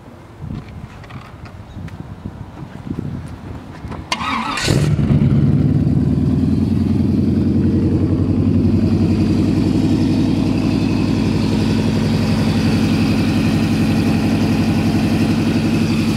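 A 1923 Ford T-bucket hot rod with a freshly built 383 engine and automatic transmission cranks briefly and fires, then settles into a loud, steady, throaty idle close by, after a short stretch of quiet shuffling.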